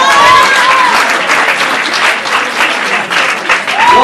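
Applause from an audience at a public meeting on education and school policy in Rome, a steady wash of clapping at full strength for about four seconds with a brief whistle-like tone near the start and end.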